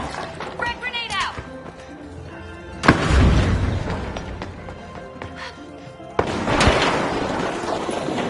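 Frag grenade explosions in a team-based video game, two loud broadband booms about three seconds apart, each followed by a rumbling decay, over a busy background of game sounds and a talking commentator.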